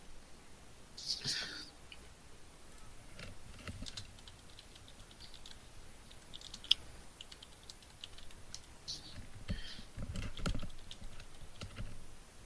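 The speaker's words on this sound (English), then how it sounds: "Probably just better off typing it out." Computer keyboard typing during a tabletop Dungeons & Dragons session, a quiet patter of irregular key clicks heard close by with faint background noise and soft bursts of talk.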